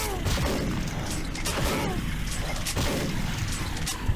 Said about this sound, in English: Just gonna use my shotgun to take them out.